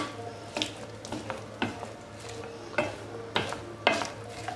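Chopped onions and green peppers fry over medium heat in a pan for sac kavurma, soft sizzling underneath repeated scraping stirs that come in irregular strokes, close and fairly quiet.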